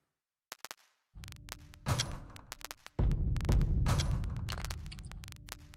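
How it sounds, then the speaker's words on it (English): A crackle sample from the Exodus expansion for Playbeat 4 on iPad: sparse sharp clicks, then dense popping crackle layered over a low rumble, growing louder in two steps and continuing to the end, with no voices. "This one's a little crackle down here."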